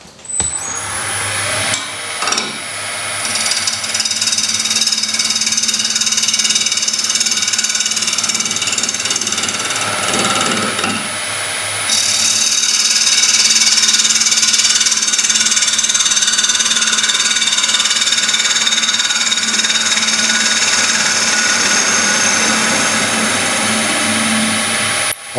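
A wooden bowl blank spins on a lathe as a gouge cuts toward the centre, giving a continuous whirring, scraping drone with a steady motor hum that brightens partway through.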